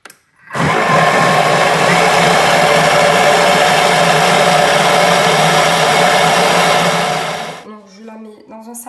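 A Thermomix blends crêpe batter made with potimarron squash, salt and sesame at speed 7 for 15 seconds: a loud, steady whirring roar that runs about seven seconds, then cuts off into quiet.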